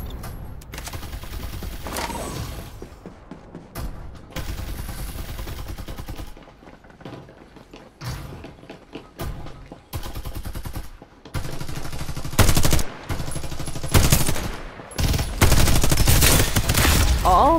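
Rapid bursts of gunfire from the Farlight 84 video game, loud and close, with dense fusillades broken by short pauses and growing heavier toward the end.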